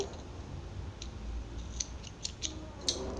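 Scissors snip through wool yarn during baby-romper knitting, a few faint, crisp metallic clicks and snips spaced irregularly, close by in a quiet room.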